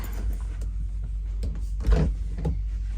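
A door in a small caravan pushed shut with a muffled thump and rattle near the middle, over a low, steady background rumble.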